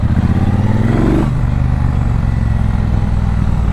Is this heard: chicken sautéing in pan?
no